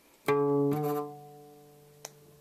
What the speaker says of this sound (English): it's the successive hammer-ons